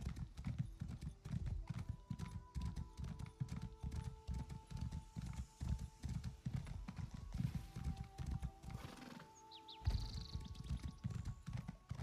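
Horse hooves clip-clop in quick, steady rhythm while riding a mount in the video game Elder Scrolls Online, loud and continuous, with brief tonal game sounds layered over them.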